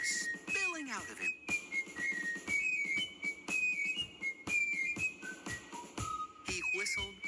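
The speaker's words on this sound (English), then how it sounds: "He whistled just like a songbird." A cartoon toy soldier in a castle whistles a bright, trilling tune like a songbird, with rising and falling melodic runs and quick chirps over a soft musical background.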